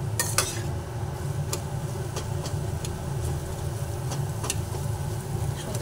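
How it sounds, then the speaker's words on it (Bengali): Filling for an evening tea snack stirred and fried in a pan, with a steady low sizzle underneath and repeated sharp clinks of a utensil scraping and tapping against the metal. "এরপরে ভালোভাবে নাড়াচাড়া করে করে পুরটাকে আমি রেডি করে নিচ্ছি।"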